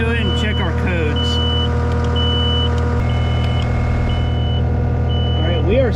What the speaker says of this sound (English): we are still getting our beeping